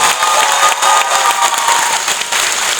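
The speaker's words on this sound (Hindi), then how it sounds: "इस पे ताली बहुत जोरदार चाहिए" A crowd applauds loudly and steadily, dense clapping filling the space throughout with no pause.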